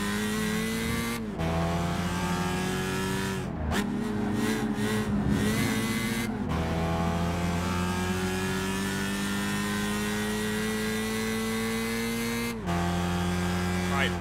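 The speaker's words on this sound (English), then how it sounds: "This car has 250 horsepower, but the gear ratios are terrible." In the video game Gran Turismo 5, a 250-horsepower race car engine drones with a steady harmonic tone, rising in pitch through gears with brief drops at shifts, loud and continuous with occasional tire squeal.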